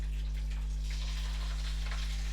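Sea bass fillet frying in a hot pan, giving a steady soft sizzle that crackles on without a break, close by and fairly quiet, over a low constant hum in the background.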